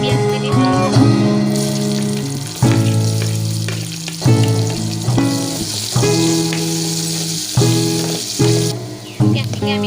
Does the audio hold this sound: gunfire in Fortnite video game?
no